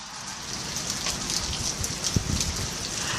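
Steady rain pours down during a thunderstorm, a dense continuous hiss of drops on surfaces with a brief thump of heavier impact near the middle, no voices.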